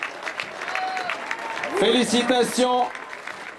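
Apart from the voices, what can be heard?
crowd applauding at a cycling award ceremony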